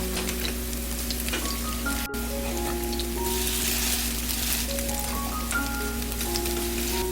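Tofu kimchi pancake frying in a pan over medium heat, a steady broadband sizzle and crackle running throughout without talk, with quiet background music tones.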